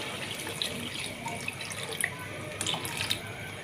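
Water pours into a pot of beef kofta curry, making a soft, steady splashing stream with a few light drips and clinks, fairly quiet and close, with no talking.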